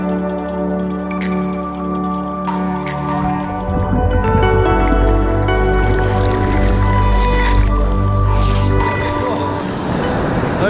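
Surf at Burleigh Heads as a swimmer heads out through the break at the start of a swell: constant loud churning water and splashing, with crashing wash building and rolling continuously throughout.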